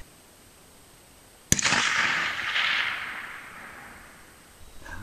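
A single sharp rifle shot fired while testing a hand-loaded cartridge load at a shooting range, a loud, close crack followed by a long echoing decay, with no talk.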